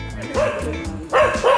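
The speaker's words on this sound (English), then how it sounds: "you'd be annoyed of the barking too." A dog gives a few short, sharp barks and yips at close range, in two quick bursts with a brief pause between them.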